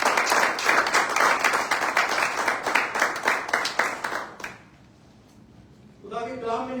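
Congregation at a Sunday church worship service breaking into loud, sustained applause for about four seconds, then tapering off into near silence before a faint voice returns.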